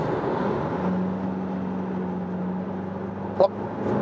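A Mitsubishi ASX diesel accelerates from 80 to 100 on a motorway, a steady engine drone with a low tone heard from inside the cabin, joined near the end by a brief sharp knock.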